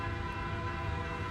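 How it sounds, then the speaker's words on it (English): A train passes at a distance, a steady low rumble with sustained horn-like tones, moderately faint and continuous, with no speech over it. "that's a train going by, and I think that's good."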